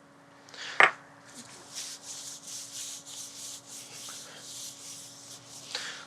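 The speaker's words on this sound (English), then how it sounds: "I'm just going to rub this on the board, capture all those bits of aromatics that found their way onto it" Seasoned lamb is rubbed back and forth across a cutting board, making a steady, close scraping and rubbing sound after one sharp knock, with no talk over it.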